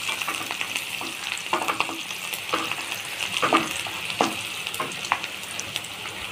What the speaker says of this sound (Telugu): మంచి వేగాలి ఉల్లిగడ్డ కరివేపాకు, మంచి వేగాలి నూనెలో.